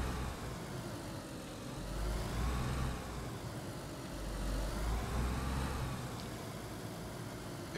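Car engine held at full throttle in the DayZ video game, the vehicle barely moving, producing a low steady drone with slow surges in loudness and no voices.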